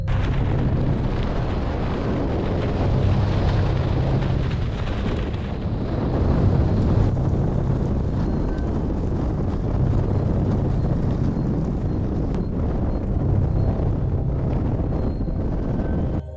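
A strong cold wind roars steadily and loudly outdoors, a continuous buffeting rush with low rumbling gusts that swell and ease throughout.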